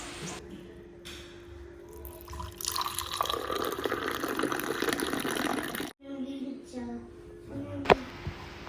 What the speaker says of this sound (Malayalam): നമ്മൾ എടുത്തിരിക്കുന്ന ചായ അങ്ങോട്ടും ഇങ്ങോട്ടും ഒഴിച്ച് നല്ലപോലെ ഒന്ന് പതപ്പിച്ചെടുക്കണം